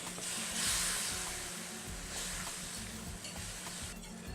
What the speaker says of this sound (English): we'll add our strawberry jam to the pan